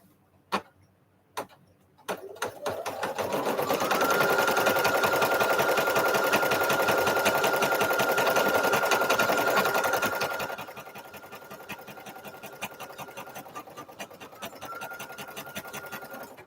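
Sewing machine stitching out a name, a steady fast mechanical chatter with a whining motor tone that runs for several seconds, then drops to a softer ticking pace, close and moderately loud.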